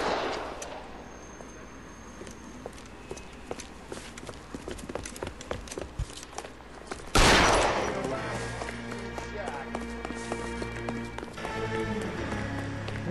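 Gunfire in LA Noire: scattered sharp shots crack through the opening seconds, followed by a sudden loud burst and a sustained noisy stretch with engine-like tones beneath it.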